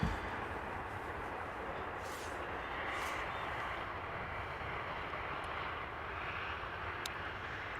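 Airliner rolling out after touchdown at Amsterdam Schiphol Airport, a steady loud broadband engine roar holding throughout with slight swells, no speech.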